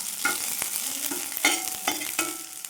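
Tamarind and curry leaves sautéed in a pan, with close, crackling sizzles and repeated quick scraping stirs that come in short bursts.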